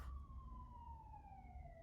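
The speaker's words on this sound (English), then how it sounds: "Oh, more sirens." A siren wails faintly in the distance, its tone sliding slowly downward over a low background rumble.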